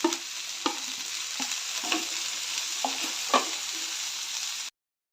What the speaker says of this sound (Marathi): भेंडी घालून चांगलं परतून घ्यायचं आहे